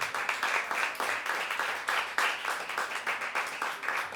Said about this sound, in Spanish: ¿Cuánto le dan un fuerte aplauso al Espíritu Santo?